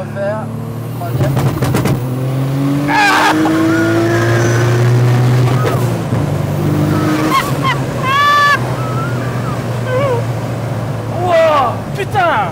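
A tuned Audi RS4 accelerates hard from a rolling start in third gear, its engine droning loudly and rising in pitch through the run, with excited voices talking over it.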